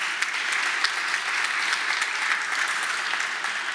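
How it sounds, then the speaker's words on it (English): A symposium audience applauds a panel moderator with steady, dense clapping from a full room that lasts the whole stretch without a break. "So please give her a warm applause."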